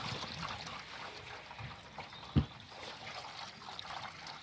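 White vinegar is dumped out of a motorcycle fuel tank after de-rusting, with a faint trickling and splashing of liquid and one brief sharper splash midway.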